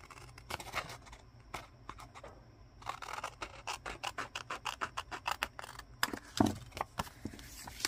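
Scissors snip through paper in a quick series of close, crisp cuts for card-making, with irregular rhythm and faint rustling between snips.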